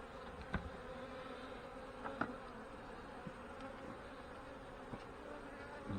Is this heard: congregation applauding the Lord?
no